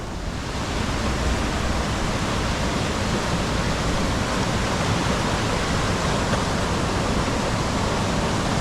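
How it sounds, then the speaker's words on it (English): Skelwith Force waterfall roaring loud and close, a dense, unbroken wash of rushing water with no voices over it. "This is our first waterfall"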